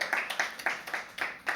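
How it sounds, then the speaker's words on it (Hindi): Audience applause at a live poetry open mic, a short burst of scattered hand claps in several uneven bunches, moderately near and fairly light, with no talk over it. "भाई के लिए जोरदार तालियां एक बार और"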